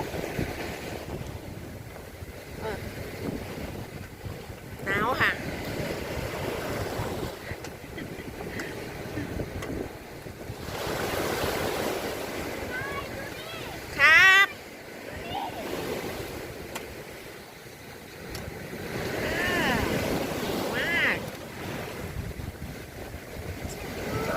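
Sea waves wash steadily on a cold, windy evening, with heavy wind buffeting the microphone and some brief chirps and rustles over the top.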